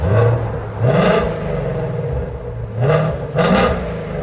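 A 2017 Ford Mustang GT350 with a 5.2L Voodoo V8, resonator delete and X-pipe, blipped in two pairs of sharp revs that rise and fall back to a loud, throaty idle, recorded close up.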